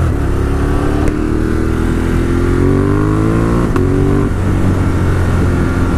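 Loud nearby revving from a 2018 Ducati Monster 1200S with an aftermarket exhaust pipe, baffles in, engine pitch rising in steady sweeps with a couple of brief blips.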